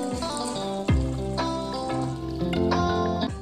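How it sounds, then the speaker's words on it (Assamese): Chicken meat and potatoes cooking in a pot, a steady close bubbling sizzle with occasional sharp clanks and stirring scrapes, loud and continuous without talking. "মাংস আৰু আলুখিনি সিজিছে"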